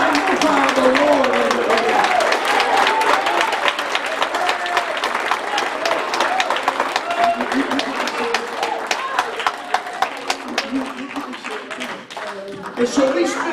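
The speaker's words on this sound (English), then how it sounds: "Clap your hands and magnify the Lord." A church congregation applauds in dense, sustained clapping that runs throughout, with voices and crowd murmur mixed into the steady wash of hands.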